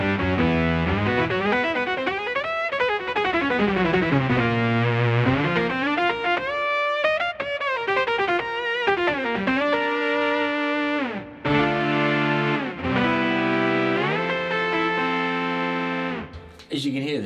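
Electric guitar played through a BOSS SY-200 synthesizer pedal set to a saw lead patch, giving a buzzy, sustained synth melody with sliding, gliding pitches and steady loud sustain throughout, with no talking.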